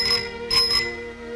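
A bicycle bell rings in three quick bright trills, loud and close, with a clear metallic tone that fades in just over a second.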